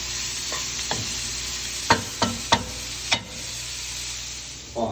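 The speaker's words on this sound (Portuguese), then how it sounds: "Deixa ele refogando um pouquinho." Bacon and broccoli sautéing in a pan for a quiche, a steady broadband sizzle with several sharp utensil stirring knocks and scrapes up close, no talking.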